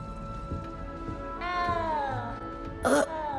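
Cat meowing in the Hogwarts Legacy video game: one drawn-out, plaintive meow that rises and then falls, followed by a short sharp burst, over soft steady background ambience.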